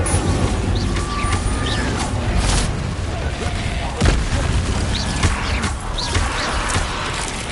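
Incendio fire spells and other combat magic cast in the Hogwarts Legacy video game make a dense stream of booms, crackling bursts and impacts, steady and loud throughout a hectic fight.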